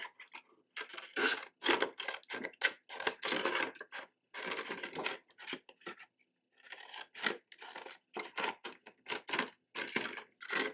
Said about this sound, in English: I am just trying to cut out that middle piece